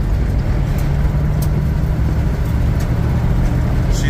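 A 1975 Chevrolet K5 Blazer with no windows or tailgate driving down the road, a steady low engine and road rumble with wind noise, heard from inside the cabin.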